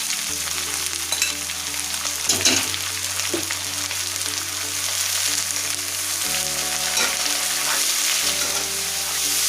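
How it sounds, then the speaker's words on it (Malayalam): Sliced onions sauté in hot coconut oil with mustard seeds for an egg roast, giving a steady, close sizzle and frying hiss with occasional spoon scrapes against the pan and a low background hum, and no talking. "നമുക്കിനി ഇതിലേക്ക് അരിഞ്ഞ് വെച്ചിരിക്കുന്ന സവാള ചേർത്ത് വഴറ്റിയെടുക്കാം."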